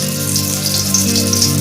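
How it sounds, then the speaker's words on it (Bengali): Chopped garlic, onion and green chilli fry in hot oil with a loud, steady crackling sizzle that fills the whole moment, no voices present. "তেলটা গরম হয়ে যাবার পর ওর মধ্যে দিচ্ছি রসুন কুচি, পেঁয়াজ কুচি, কাঁচা লঙ্কা কুচি"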